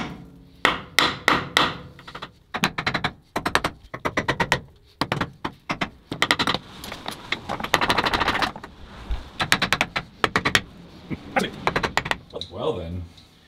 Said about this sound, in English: I'll get the Husky 3 pounder out here and gently do a tap, tap, tap on this.